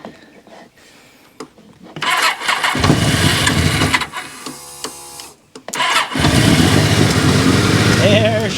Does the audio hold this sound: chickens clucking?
no